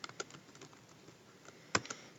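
Computer keyboard typing during a spreadsheet formula entry: a quiet, sparse run of soft key clicks, with one sharper, louder keystroke near the end.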